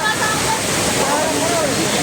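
Ditumabo Mother Falls in San Luis, Aurora Province pours with a constant, loud rushing roar of falling water, and voices are faintly mixed in.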